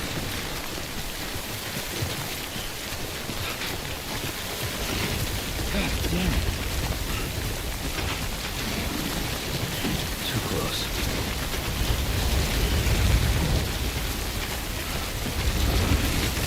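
Video game Timefall storm: a heavy, continuous wash of rain pounding surfaces, with deep thunder rumbling underneath, steady and enveloping throughout, with a voice talking faintly under the downpour.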